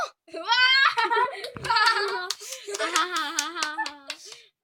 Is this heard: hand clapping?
yes